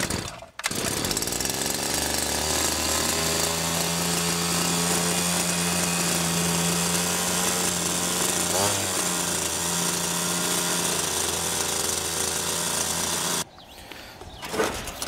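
A 52cc backpack brush cutter's two-stroke engine fires and settles into a loud, steady buzzing idle up close, holding for over ten seconds before cutting out abruptly.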